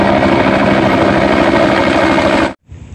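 A loud, steady whirring motor hum like a toy helicopter, running continuously and then cutting off abruptly near the end.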